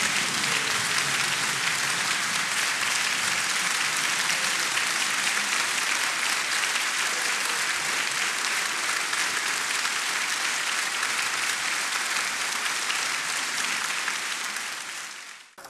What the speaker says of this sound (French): Conforté par l'intensité des applaudissements